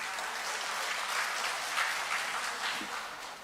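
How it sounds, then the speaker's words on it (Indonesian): Audience applause at an Indonesian ceremony installing an early-childhood education ambassador in Badung, a dense, even roar of many clapping hands that holds steady and tapers slightly at the close. "Tepuk tangan dulu nih."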